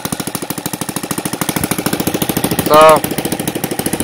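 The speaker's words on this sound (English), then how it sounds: "I was running my mouth here and the engine, you see, is still running." An NGH FG-38 four-stroke model engine with CH ignition timed at 30 degrees BTDC runs close by with a rapid, even chugging pulse throughout, and someone briefly speaks over it.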